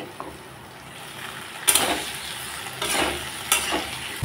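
Chopped tomatoes hit a pan where a fish head is frying, giving a quiet sizzle that flares in a few bursts with stirring and scraping, and no talk.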